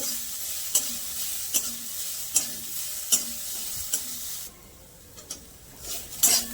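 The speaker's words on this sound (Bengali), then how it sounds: "নারকেলটাকে একটু ভেজে নেব" Grated coconut fries in oil in a pan, a steady soft sizzle broken by regular scraping stir strokes about once a second, close and alone with no voices.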